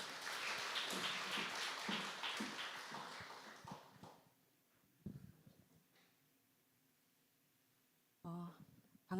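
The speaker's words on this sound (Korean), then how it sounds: "우리 박수로 환영하겠습니다" An audience in a Korean church forum event claps to welcome a pastor, a dense burst of applause that fades over several seconds into scattered claps and quiet room noise.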